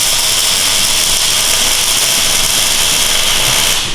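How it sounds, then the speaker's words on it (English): A welding bead is run on a BC501 linkage, a loud, steady, crackling hiss that holds evenly for about four seconds and cuts off right at the end. "I'm going to run a bead here."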